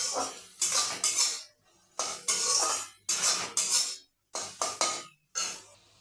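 A spice paste with a little water and sugar is stirred and fried in a pan for a stuffed eggplant dish, heard as loud rhythmic bursts of scraping and sizzling separated by short pauses, close and with no voices.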